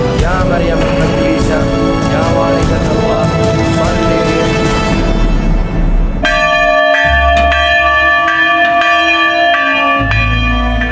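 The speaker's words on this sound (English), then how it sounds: "This is the bell from the belfry that was knocked down by ISIS." A church bell in Iraq, from a belfry knocked down by ISIS, rings loudly with rich, sustained overtones, its strikes layered and ringing on; the tolling grows clearer and sharper partway through.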